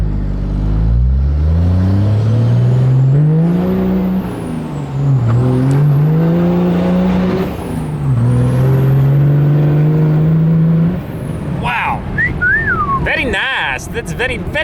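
A modified diesel truck rolls in second gear, its engine droning loudly and rising and dipping in pitch with a whistling turbo above it, followed by sharp bursts of boost noise near the end.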